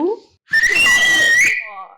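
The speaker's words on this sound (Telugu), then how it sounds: "మీకు ఎవరికన్నా విజిల్ వస్తే ఒక విజిల్ వేసుకోండి" A person whistles loudly in a single shrill, sustained note lasting about a second during a film-team interview, with brief speech just before and after it.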